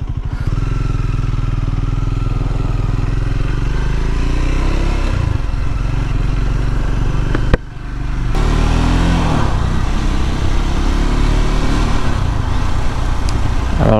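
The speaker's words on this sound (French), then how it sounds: "Alors là on est à 2000 tours. Ça reprend sans cogner." A Triumph Scrambler 400X motorcycle engine runs loud and close while riding, holding a steady drone with a brief dip mid-way before pulling again, without any talk over it.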